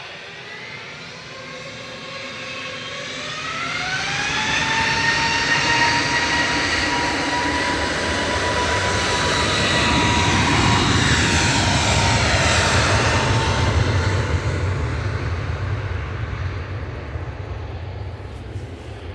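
An Airbus A321neo jet at Manchester Airport roars loudly, its engine whine rising in pitch and holding steady for a long stretch as it powers up and passes close by, with no voices.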